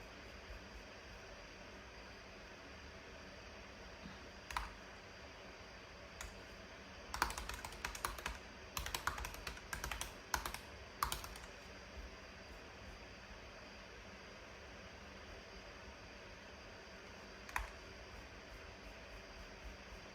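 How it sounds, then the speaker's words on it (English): Keyboard typing in short bursts of quick clicks, with a cluster of rapid keystrokes in the middle and scattered taps before and after, over quiet room hiss. "Can you hear me typing?"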